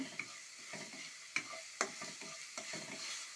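Ground spinach being stirred in a pan, a quiet, gently sizzling mixture marked by several sharp scrapes and taps of the spoon at irregular intervals.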